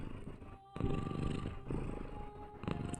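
A cat purring close by, a steady low rumbling drone with a rhythmic pulse that holds for the whole stretch, under faint game background sound and with no talk.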